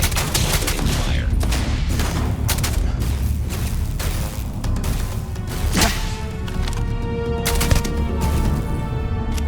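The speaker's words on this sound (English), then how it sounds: "Opening fire." Gunfire from the video game Starfield, with dense, continuous volleys of shots and occasional heavier booms layered over a rumbling battle din.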